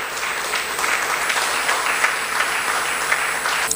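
Steady applause rises from the crowd at a women's leadership forum in Kinshasa, an even, sustained clapping with a few sharper individual claps standing out near the end.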